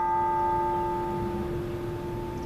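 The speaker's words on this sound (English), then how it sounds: "when I get to this part of the story, a church bell starts going off" Church bell ringing out in a Bible Belt town, heard between two churches, a steady sustained tolling with long ringing overtones that fade slowly, fairly far off and continuous.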